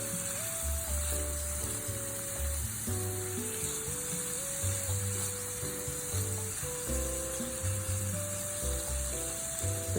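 Onions and garlic sizzle in a pan on the stove while being stirred, a steady close crackle with scraping and a faint tonal hum underneath.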